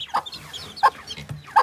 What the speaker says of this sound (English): I'm still saying it's a rooster